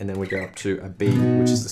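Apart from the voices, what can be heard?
None of the usual background noises is heard.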